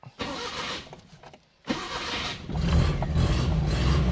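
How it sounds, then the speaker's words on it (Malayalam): A car engine cranks and catches, runs briefly, cuts out after about a second, then restarts and settles into a steady, louder idle, heard up close with no talking. "വണ്ടി സ്റ്റാർട്ട് ചെയ്ത് നിൽക്കത്തില്ല."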